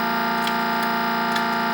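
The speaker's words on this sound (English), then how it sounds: "that ticking noise you hear in the engine sound is probably caused by looping the sample" A looped, synthesized car engine tone from the Crazy Cars video game drones steadily, with soft ticks recurring about every half second where the sample repeats.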